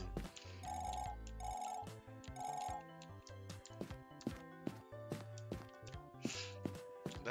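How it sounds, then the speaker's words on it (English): A mobile phone rings during a gaming session, its bright repeated tone pulses heard in three bursts over game music and scattered tapping effects. "That is my phone that went off."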